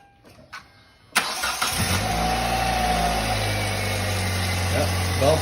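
A 2008 Hyundai Elantra engine cranks briefly and catches with a loud burst, then settles into a steady, close idle hum.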